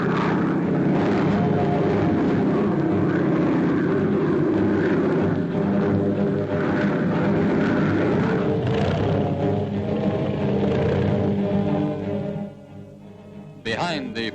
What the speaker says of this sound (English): Over the outer waters, we maintain a constant aerial patrol.